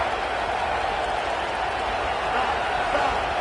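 Stadium crowd roaring at a big third-down play in College Football 27, a dense, sustained wash of cheering with a commentator's voice riding over it.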